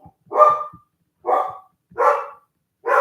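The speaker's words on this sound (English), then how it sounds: "I try to get her to not bark because we have neighbors now" A pet dog barking indoors in a home, four loud, close barks in an uneven sequence with short pauses between them, heard alone without talk.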